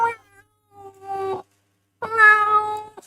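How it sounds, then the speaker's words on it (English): Cats in heat meow outside in VA-11 Hall-A, three drawn-out yowls with clear pitched tones and brief pauses between them, fairly close and alone. "There are cats in heat outside."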